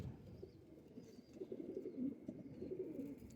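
A male pigeon with red plumage coos softly in a series of low, throaty repeated calls, faint and close with a little background hiss.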